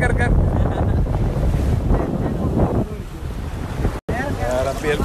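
Rough, foamy sea surges and crashes under strong wind buffeting the microphone, a loud, close, continuous roar that eases slightly after a brief dropout, with a faint voice near the end.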